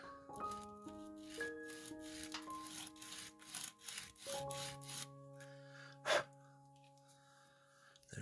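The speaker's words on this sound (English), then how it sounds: "give this a little bit of sanding on one and the other side then." A plasma fighter model part for a Billion Suns fleet is filed and sanded by hand with a file, giving repeated rasping strokes under steady background music.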